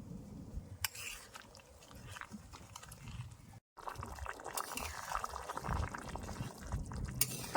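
A pot of fish, taro and potato curry boiling steadily, its close, continuous bubbling broken by a brief silence partway through.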